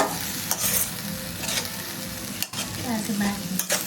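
Green chili chutney stirred in a hot pan, a spoon scraping and clacking in irregular strokes over a steady close sizzle of frying, with no voices.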